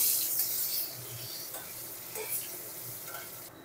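Potatoes fry in hot oil in a pan with salt and turmeric, giving a steady close sizzle with occasional soft stirring scrapes and no talking.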